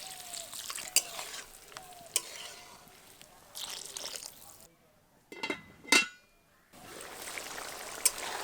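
Vegetables are stirred and fried with spices in a pan: a steady sizzle broken by sharp utensil clinks against the metal, a brief quiet gap, then louder scraping and clanks.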